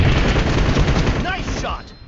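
Dense, rapid gunfire from PUBG Mobile team deathmatch play rattles on steadily and loud for about two seconds, then thins out near the end.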